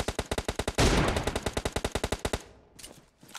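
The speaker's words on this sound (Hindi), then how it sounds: "पीछे बॉट की फायरिंग" Rapid automatic gunfire from a bot in the mobile shooter BGMI: a fast, evenly spaced stream of loud shots runs for a couple of seconds, then a few isolated single shots follow after a short gap.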